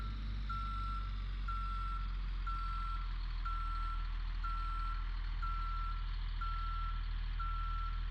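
A Blue Bird A3RE bus sounds its reversing alarm while backing into a garage: eight evenly spaced high beeps, about one per second, loud and steady over a constant low engine rumble, with no talking.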